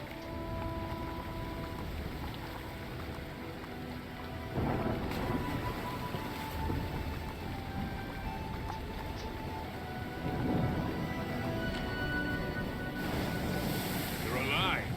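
A storm at sea around a ship in the game LOTRO, steady roaring wind and rushing water with deeper swells that build and fade, heavy and continuous, while a voice speaks over it.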